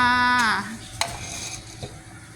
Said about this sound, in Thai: เกียวกระเทียมใส่ก๋วยเตี๋ยวจ้า